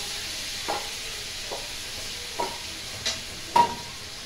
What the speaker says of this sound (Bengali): এটা আমি নাড়াচাড়া করবো